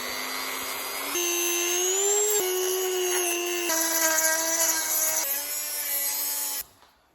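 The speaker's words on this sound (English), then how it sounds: "I'll record grinding it right now and removing it." A tool grinds on the clutch and brake pedal support of a 1968 Mustang, producing a loud steady whine that shifts pitch a few times as load changes, running for about six seconds before cutting off abruptly.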